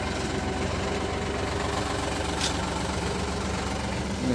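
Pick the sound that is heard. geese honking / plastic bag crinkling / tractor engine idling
tractor engine idling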